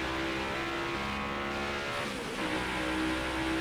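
Race car engines drone in NASCAR Heat 5 during a Next Gen car race at Phoenix Raceway, a steady faint hum with a shifting pitch as cars run close together.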